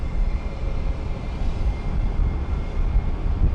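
A JetBlue Airbus A321-231 arriving from Orlando touches down on the runway at Luis Muñoz Marín International Airport in San Juan, a broad, steady low roar of engines and rolling noise heard from a distance.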